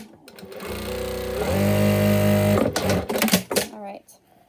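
A sewing machine top-stitching a homemade face mask runs with a steady, close motor whir for about a second, then breaks into uneven clatter and sharp clicks before falling quiet.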